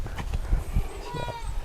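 Goats on a farm where young kids are still bottle-fed and mixed breeds including Jawa Randu are kept, with brief bleats and animal shuffling close by amid general barnyard noise.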